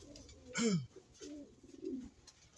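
Racing pigeons coo softly nearby in their loft, giving a few low, throaty warbling calls against quiet background noise.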